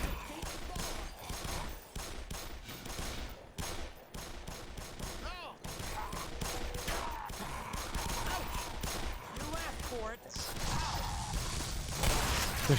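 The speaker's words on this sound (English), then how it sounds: "They're shooting each other." Soldiers trade gunfire in the video game Black Mesa, with dense bursts of rapid automatic shots and scattered single cracks continuing throughout, mixed with game sounds and occasional talk.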